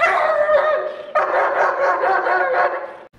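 Protection dog barking hard at a stranger on command, a rapid string of loud, close, rough barks that breaks briefly and resumes before stopping abruptly.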